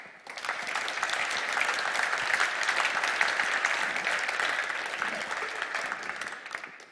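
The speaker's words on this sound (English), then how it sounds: "So why not give them a big round of applause?" Sustained applause from a large audience at a startup demo day, steady dense clapping filling the whole stretch, loud and continuous with a faint crowd murmur beneath.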